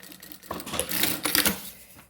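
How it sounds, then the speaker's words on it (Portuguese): Sewing machine stitching a seam along the edge of a fabric phone-charger and earphone holder, a short run of rapid mechanical clatter that builds, holds for about a second and then slows to a stop, close and fairly quiet. "E vou costurar aqui na beiradinha."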